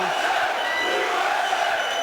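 A large arena crowd at a UFC 15 event in Mississippi chants "USA" in a steady, sustained roar, dense and continuous, with no clear breaks between voices.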